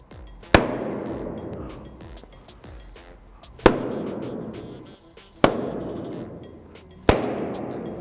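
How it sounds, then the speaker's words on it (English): Four sharp bangs of balloons bursting, with ringing decay, spaced a few seconds apart and close by, with no voices. "what actually happens is the balloon bursts"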